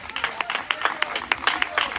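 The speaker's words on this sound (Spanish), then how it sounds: "Dele un aplauso fuerte al Señor" Church congregation applauds loudly during a Spanish-language worship service, a dense, lively patter of many hands clapping with sharp accents, close and full, with voices mixed in underneath.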